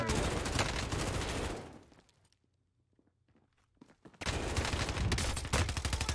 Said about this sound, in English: I'm being shot from multiple directions